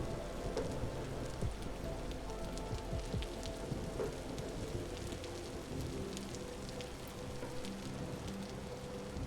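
Steady rain falls in the survival game Vintage Story, a dense, even hiss of drops on surfaces with a few louder close splats, continuous and unbroken, with no voices.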